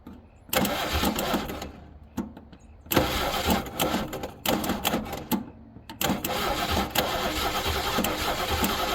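An engine with a newly installed Aces High Roller Pro ignition system cranks in repeated bursts, stopping and restarting, then catches and runs steadily near the end, loud and close.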